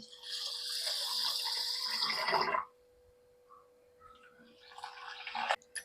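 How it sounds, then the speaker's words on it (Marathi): Water pours steadily from a tap onto soaking rice and urad dal for idli batter, a splashing rush that stops abruptly, then a softer trickle of water resumes near the end. "इथे आपण दोन्ही याच्यामध्ये पाणी टाकून घेतलं आहे"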